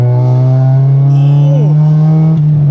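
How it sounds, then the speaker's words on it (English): Honda Civic EG hatchback with a Wish catback exhaust, heard from inside the cabin as a loud, steady, droning engine hum that holds one pitch, then shifts slightly as the revs change, with no speech over it. "It sounds exactly like you would expect a Civic to sound."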